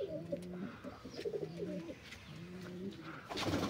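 Pigeons and their chicks coo in a loft, with several adults cooing in steady, repeated low phrases and softer chick calls mixed in. The sound is close and continuous, with no talking.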